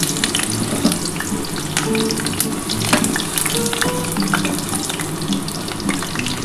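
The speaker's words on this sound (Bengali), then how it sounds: "পেঁপে আর আলুটা হালকা করে একটু ভেজে নিচ্ছি।" Potatoes and papaya frying lightly in a pan, a steady close sizzle with a watery, bubbling texture running continuously throughout, no talking.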